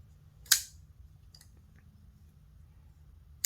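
A Bastion Persuader PK Edition folding knife with orange-peel anodizing drops shut with a crisp metallic snap near the start, a faint click follows, and a second sharp snap comes at the end over quiet background hum.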